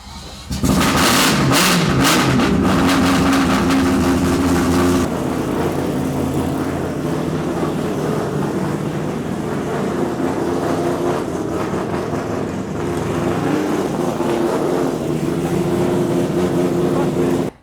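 A rotary-engined Volvo car drives around and revs, a loud, steady engine roar with a sharp burst of revving at the start, settling into a sustained mid-pitched drone close by.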